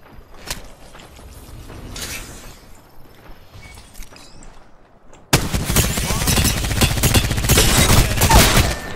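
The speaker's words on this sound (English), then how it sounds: "Launching me knuckle cluster" Fuse's knuckle cluster firing in Apex Legends: scattered sharp pops and footsteps at first, then a sudden loud dense barrage of rapid bursting explosions for the last few seconds.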